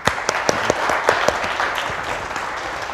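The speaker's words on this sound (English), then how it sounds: "let's give again a big round of applause to Chris Skinner" Conference attendees at an Indian fintech event applaud Chris Skinner, brisk crowd clapping with a few sharp, close claps standing out, steady for a few seconds and easing slightly toward the end.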